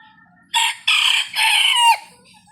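A rooster crows loudly nearby in three drawn-out segments, the last one trailing off, with quiet clucking before and after.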